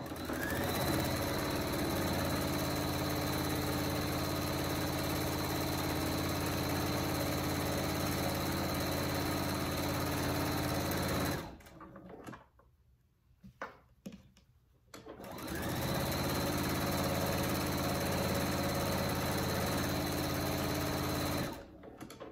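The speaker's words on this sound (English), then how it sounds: "we're going to sew again all the way around using a half inch seam allowance" A sewing machine stitches all the way around a fabric wildlife joey pouch, a loud, steady close whirr that stops for a few seconds midway, then resumes and runs steadily again.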